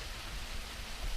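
Rain pouring over a farm field, a continuous broad wash of falling drops, even and fairly loud throughout, with no voices.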